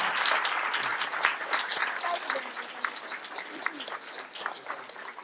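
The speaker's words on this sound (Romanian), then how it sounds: "Vă rugăm să aplaudăm pe toți, pe amândoi." An audience at a 2017 Christmas carol concert in Imola claps for the performers. Full applause starts strong, then thins and gradually eases off, with individual claps standing out near the end.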